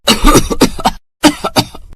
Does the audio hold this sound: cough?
yes